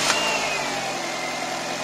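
A car engine starts with a brief burst of cranking and firing, then settles straight into a steady running idle that continues close by.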